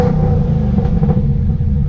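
A sixth-generation Chevrolet Camaro ZL1 engine holds a steady loud rumbling rev above 2,500 rpm, close by and dense with low-end roar, with no talk over it.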